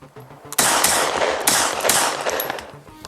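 A Glock 40 pistol fired in a rapid string of loud, close shots, several bursts in a row over about two and a half seconds, with no talking.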